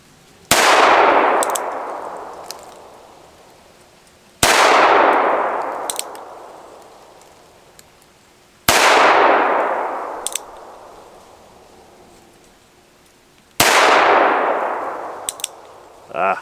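Four sharp .22 WMR shots from a North American Arms mini revolver, fired one-handed, each followed by a ringing clang from a struck steel target that decays over several seconds, spaced about four seconds apart.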